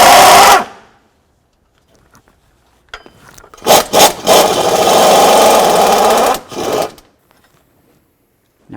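A swivel socket on an extension works loose a water pump bolt on a Ford F-150, giving a loud, close burst of rapid ratcheting and grinding with sharp clicks before and after, set between silent pauses.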